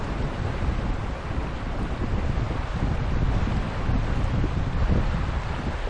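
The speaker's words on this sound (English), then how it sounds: "Main channel is flowing really strong." The Teklanika River's main channel in Denali National Park, running strongly as a steady, dense rush of water, partly buffeted by wind noise on the microphone.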